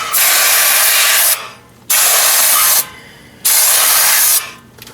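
Brake cleaner sprays onto the front brakes of a 2008-or-later Ford Super Duty truck in three loud, steady hissing bursts, each lasting about a second, with short pauses between them.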